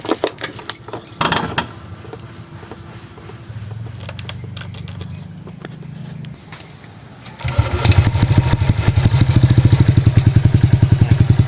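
A Yamaha Aerox or NMAX scooter with an error 12 fault that keeps stalling is started. Clicks and a brief cranking whir come first, then the engine catches into a loud, steady, rapidly pulsing idle close by.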